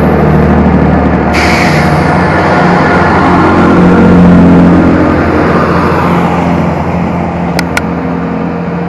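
A train departs Paignton station in Devon, its loud, steady engine rumble building and holding close by throughout, with a brief high hiss partway in and a couple of sharp high clicks near the end.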